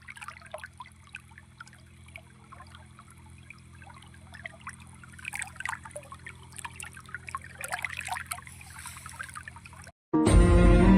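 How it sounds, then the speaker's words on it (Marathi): Irrigation water gurgles and trickles through a sugarcane field in an uneven, close stream of small splashes over a steady low hum, cut off near the end by a sudden loud burst of music. "ही पाणी खळखळखळ आवाज करणारं पाणी"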